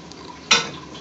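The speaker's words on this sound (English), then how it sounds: "Giving a good mix with his hand." Tomato and onion salad mixed by hand for a Bengali village recipe, a single soft wet squelch and rustle about halfway through, close and short, with faint room noise around it.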